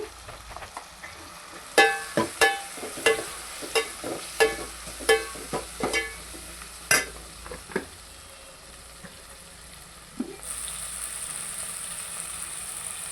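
A spoon scrapes and taps against a pan again and again while spices are stirred into cooking food, a string of sharp clacks over a quiet sizzle, followed by a short steady hiss.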